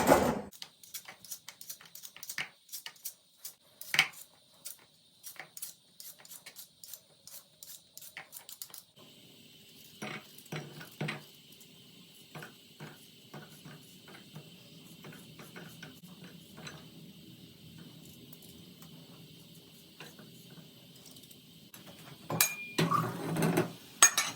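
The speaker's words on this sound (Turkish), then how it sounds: "Ben önce bir patateslerimi soyayım." Scraping and light clicking of a peeler on potatoes in a home kitchen, irregular strokes close up, with occasional clatter of utensils and no talking.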